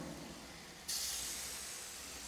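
Lentil fritters with sesame and coconut frying in hot oil, a steady sizzle that suddenly grows louder and brighter partway through, then holds as a continuous hiss.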